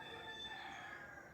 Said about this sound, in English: that's the rooster in the distance